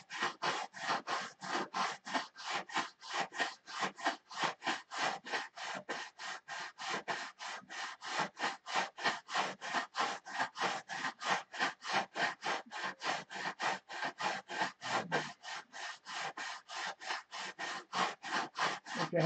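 Sandpaper is worked by hand back and forth across a wooden tucker box in a steady, even rhythm of close rasping strokes, roughly two or three per second, with no talk.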